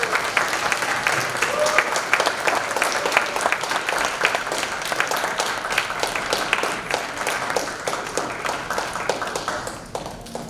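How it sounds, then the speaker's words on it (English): Sustained audience applause fills a hall at a Scouts' Blue and Gold ceremony, dense steady clapping from many hands that carries on for about ten seconds before tapering slightly at the end. "Please join me in congratulating these Scouts and their families with a huge round of applause"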